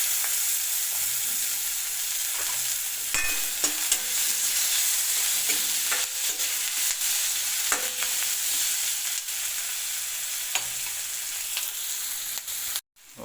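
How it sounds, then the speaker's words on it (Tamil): Onion and tomato sauté in a pan for semiya upma, giving a continuous close sizzle with scattered scrapes and taps of a stirring spoon, ending abruptly. "ஓகே, நல்லா இப்போ வதங்கிடுச்சு வெங்காயம் தக்காளியும்."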